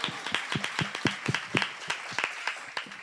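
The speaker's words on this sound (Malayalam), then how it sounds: "കൈയടിച്ചു" An audience at a gospel music gathering claps for a singer, with sharp, distinct handclaps in a loose, uneven rhythm over about three seconds, fairly close and not very dense.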